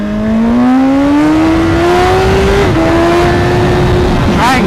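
A 2016 BMW S1000RR motorcycle engine revs loud and close while riding, pitch climbing steadily through a long pull, dipping briefly at a gear change, then rising again, with wind roar throughout.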